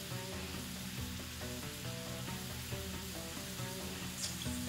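Soaked, cleaned rice tipped into hot olive oil for oriental rice, giving a steady, close frying sizzle with light stirring scrapes throughout and no talking.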